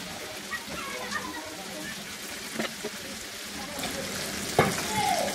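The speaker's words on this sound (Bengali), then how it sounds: "এখন এর মধ্যে আমি এই ঢেঁড়সগুলা দিয়ে দিব" Okra pieces frying in hot oil in a home kitchen for an aloo bhindi dish, giving a steady close sizzle with a few stirring clinks and a sharper burst near the end.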